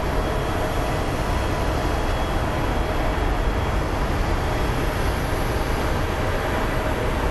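PHX Sky Train airport people mover runs with a steady, dense rumble and hiss throughout, a continuous close rolling noise without pauses or voices.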